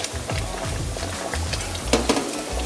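Vodka poured into simmering tomato pasta sauce for spicy rigatoni, giving a close, steady sizzle and bubbling with a few brief clinks, no voices.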